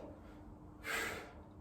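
A single sharp exhale during a home workout session, short and breathy, standing out briefly from an otherwise quiet room.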